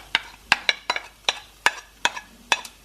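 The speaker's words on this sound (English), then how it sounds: "I'm now going to put my onions into the pan" Onions frying in a heated pan, cooked as the base for a Quorn chilli con carne, with a run of sharp, evenly spaced spatula strokes and scrapes over a faint sizzle.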